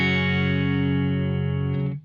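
Sustained distorted electric guitar chord ringing through a Marshall Plexi amp into an oversized 1994 Mesa Boogie cabinet with V30 speakers, close-miked with an SM57 and Royal 121, held steady for about two seconds then cut off.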